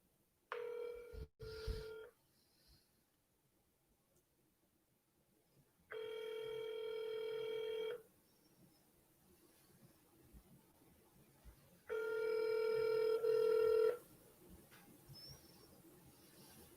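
An outgoing telephone call rings back in the earpiece, three evenly spaced two-second ring tones separated by long quiet gaps. A few faint clicks come before the first ring.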